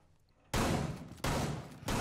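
Gunshots in a video game: three abrupt loud bursts of fire, each cutting in sharply after a quiet start and spaced roughly evenly, with no voices present.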